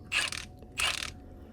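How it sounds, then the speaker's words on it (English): A ratchet wrench loosens the four bolts holding a part on a cheap, worn telehandler under repair, heard as two short, close bursts of rapid clicking with a quiet pause between. "Here's me just unscrewing them. 4 bolts holding that on."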